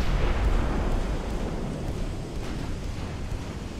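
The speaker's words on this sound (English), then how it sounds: "he just landed a big hit on one of mine, though, with a 10-inch gun" A heavy 10-inch naval gun shell strikes a ship in a dreadnought-era naval battle game, a deep booming rumble that hits loud at the start and rolls off slowly into a dull, wind-like roar.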